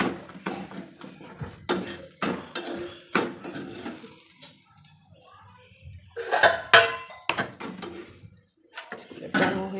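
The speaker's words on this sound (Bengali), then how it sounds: "ঘি দিয়ে দিলাম, একদম ধীরে ধীরে আঁচে দিতে ভালো হয় পরোটাগুলো।" Parathas frying in ghee on low heat: a gentle sizzle beneath repeated clanks and scrapes of a metal utensil against the pan, coming in uneven bursts with quieter pauses.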